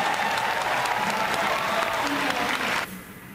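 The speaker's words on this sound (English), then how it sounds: "He was clapping for her." A theatre audience claps steadily in sustained applause after a live song performance, cutting off sharply near the end, with a few faint voices underneath.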